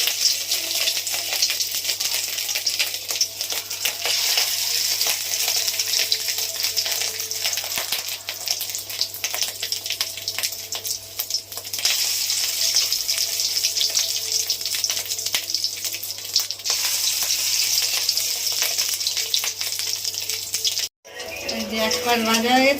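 Fish roe fritters fry in a pan with a loud, continuous sizzle and crackle heard up close, over a low steady hum, cutting off briefly just before the end.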